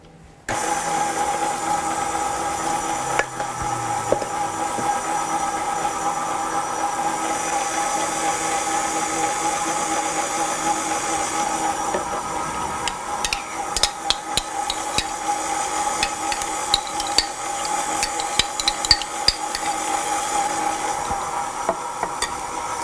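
An electric mixer beats vanilla cake batter with a continuous mechanical whir that keeps going throughout, broken by scattered clicks and knocks, heard close up and without speech.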